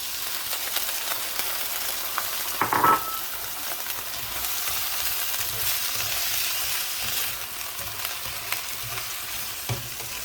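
Vegetables cook in a pan with soy sauce and water, giving a steady soft sizzle and bubbling throughout, with an occasional louder scrape or clack of stirring; no one speaks.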